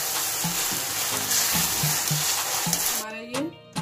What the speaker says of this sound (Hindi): अब इसे अच्छी तरीके से मिक्स करेंगे, इसको 5 मिनट तक और भूनेंगे।